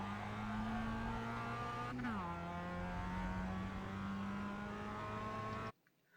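Mazda MX-5 engine held at full throttle on track at Laguna Seca in iRacing, a steady sustained drone with one brief pitch dip from a gear change, cutting off abruptly near the end.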